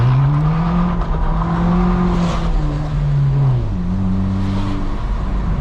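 A BMW 118i F21 with traction control off, driven at night, spins its wheels as the engine holds a loud, steady high drone with pitch wavering up and down, heard close from inside the car.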